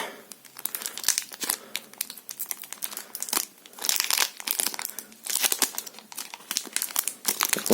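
Crinkling plastic wrapper of a card packet being opened, with several bursts of crackling and tearing up close, separated by quieter pauses, no speech.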